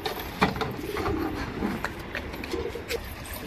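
Pigeons coo softly a few times nearby, low throaty calls amid light rustling and clatter.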